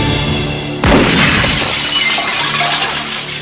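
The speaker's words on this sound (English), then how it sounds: "the guy shoots him with a shotgun, and then the glass behind him explodes" Glass explodes from a shotgun blast in a movie scene, Maniac Cop 2: a sudden loud crash followed by a dense spray of tinkling shards that keeps clattering for a few seconds.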